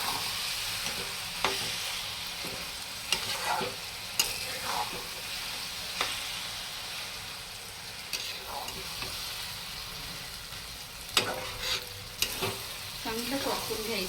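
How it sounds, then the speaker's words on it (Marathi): Mashed eggplant and spices are sautéed on full flame for baingan bharta, giving a constant close sizzle broken by scraping stirs and occasional sharp knocks of a spoon against the pan, with no voices. "चांगलं परतून घेऊया आपण मसाले सगळे वांग्यात मिक्स झाले पाहिजे"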